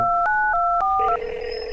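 A mobile phone being dialed gives a quick run of touch-tone beeps, several short clear tones in a row that end in a higher steady tone, loud and close, with no talking.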